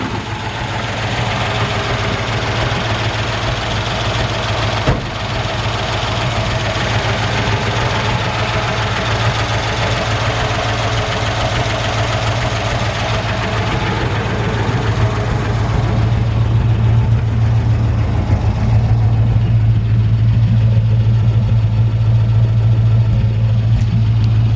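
The engine of a 1948 Ford F1 pickup truck idles alone, a steady, loud low rumble that holds even throughout and grows slightly deeper and heavier toward the end.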